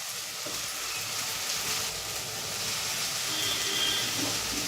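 Curry leaves frying in hot oil in a home kitchen pan, a steady bright sizzle and hiss that holds evenly for a few seconds without talk.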